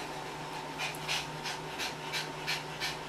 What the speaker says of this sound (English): that's my dog making noises if the camera's picking that up